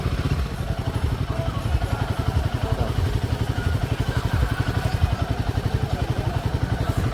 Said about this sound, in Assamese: হাজাৰ বাইক অকল ৰয়েল এনফিল্ড বাইক অকল ৰয়েল এনফিল্ড